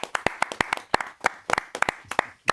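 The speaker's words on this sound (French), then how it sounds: "On a le droit d'applaudir." A small audience claps at the close of a professional presentation on PTZ cameras: distinct, separate hand claps from only a few people, irregular and close, with no talk.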